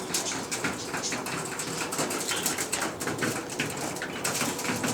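Arab performing pigeons calling outdoors, soft coos and bird sounds under a steady, dense hiss of background noise that runs through the whole stretch.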